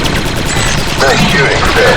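Blaster gunfire from the Star Wars: Republic Commando game, a dense continuous burst of rapid shots with other combat noise and speech mixed in throughout.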